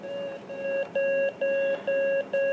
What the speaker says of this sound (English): There's the tone.